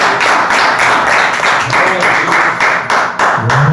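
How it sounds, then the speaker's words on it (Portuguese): A church congregation claps for a pastor in a dense, loud burst of applause that holds steady throughout. "uma salva de palmas para o Senhor"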